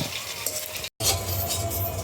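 Sweet potato filling sizzles steadily as it fries to a reddish brown in a pan, a dense crackling hiss that cuts out for a split second and then returns, with no voices.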